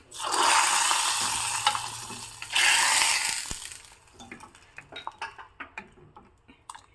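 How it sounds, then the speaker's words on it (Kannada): Mustard seeds, cumin and chili hit hot coconut oil in a loud hissing sizzle that surges twice, then settles into scattered sharp crackles and pops as the seeds burst. "ಒಗ್ಗರಣೆ ಹಾಕ್ತಾ ಇದ್ದೀನಿ ಸ್ವಲ್ಪ ಸಾಸಿವೆ ಹಾಕಿದ್ದೀನಿ"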